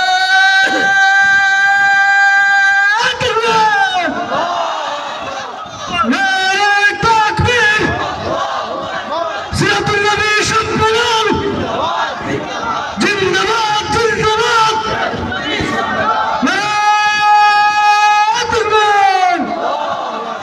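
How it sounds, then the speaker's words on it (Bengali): A large crowd at a Bangla waz gathering roars a takbir in unison, with loud, sustained massed voices swelling in repeated waves and a preacher's amplified voice leading between them. "এইবার শরীরের যত শক্তি আছে সব শক্তি ব্যয় করে আমার সাথে একবার নারায়ে তাকবীর।"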